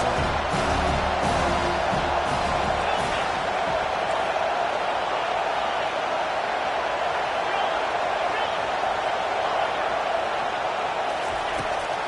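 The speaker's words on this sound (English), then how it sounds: "Listen to this crowd just shaking the girders of this place, trying to help their defense." A packed football stadium crowd roars steadily during a defensive stand, a loud, sustained wash of voices filling the whole stretch without letup, with an announcer's voice faintly present.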